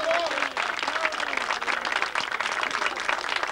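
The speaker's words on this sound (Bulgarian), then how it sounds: "Нека ръкопляскане и за него" An audience applauds the team captain at the final of a 1992 parachuting all-round competition. Steady, dense clapping runs throughout, moderately distant, with crowd voices mixed in underneath.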